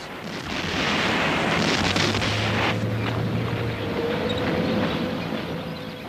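Artillery guns firing and shells exploding in World War II combat footage of Operation Barbarossa, a loud sustained rumble of blasts and roaring booms rolling together without pause.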